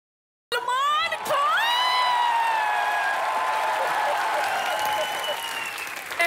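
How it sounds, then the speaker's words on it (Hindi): Loud, sustained applause and cheering from a studio audience at a Comedy Nights With Kapil taping, welcoming Salman Khan; it bursts in abruptly and holds steady with whoops and a tonal musical cue riding over the clapping. "लेडीज एंड जेंटलमैन, एक बार फिर से जोरदार तालियों से स्वागत कीजिए सलमान खान का"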